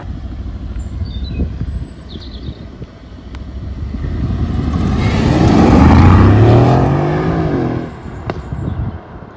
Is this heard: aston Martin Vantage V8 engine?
yes